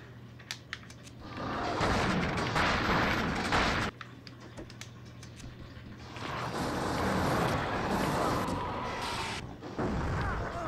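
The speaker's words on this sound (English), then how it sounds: "Why is everything exploding?" Explosions in the original Xbox game The Thing come as loud, sustained roaring bursts in two long waves, broken by sharp clicks and a brief lull between them.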